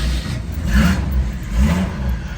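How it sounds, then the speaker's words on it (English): A 1965 Ford Mustang Convertible's V6 engine starts up close by, its hum rising and falling in two revving surges. "As you guys can hear, that thing starts up really fast."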